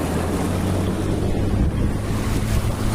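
Floodwater from the Subarnarekha river rushes across a road, a loud, dense roar of churning water mixed with heavy wind buffeting the microphone.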